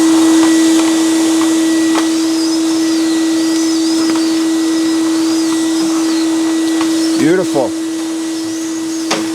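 A dust collector fitted with an Oneida Dust Deputy Low Pro cyclone runs with a steady, loud droning hum and suction hiss throughout, while a person speaks briefly near the end.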